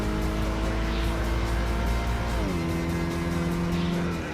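Automatic car engine in the racing game Gran Turismo 5, a loud steady drone that holds one pitch and then drops noticeably as it shifts gear, continuous throughout.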